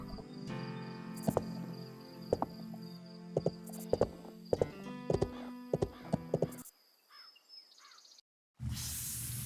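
Horse video game audio with repeated clip-clop hoofbeats and a whinny over musical game tones, crisp and close, then a quieter stretch and a loud burst of noise at the end.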